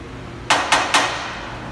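A medium nylon hammer strikes sheet metal while working out a dent: three sharp, evenly spaced, close knocks about a quarter second apart, each with a short decay, over quiet room tone.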